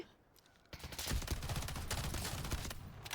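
Automatic gunfire in the shooter game Delta Force, a sudden sustained burst of rapid shots after a quiet moment, dense and continuous until the end.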